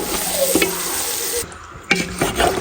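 Masala sautéing in a pan for haleem, a close, steady sizzle broken by a brief lull and a few sharp scrapes and stirs of a spoon against the pan.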